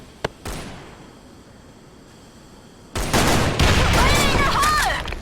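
Shotgun fire in the Sudden Attack online shooter game: a sharp early shot, a quiet stretch, then a dense run of loud blasts and game effects.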